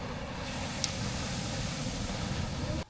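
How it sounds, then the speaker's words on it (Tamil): Vada fry in hot oil in a pan, a loud continuous sizzling hiss that holds steady before cutting off abruptly. "எண்ணெய் எல்லாம் சூடாயிடுச்சு வடை போட்டு எடுத்துக்கலாம்"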